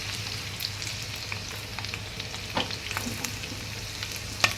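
Food sizzles and fries in a pan, a steady crackling hiss with occasional sharper pops and stirring scrapes, close and fairly loud, with no voices.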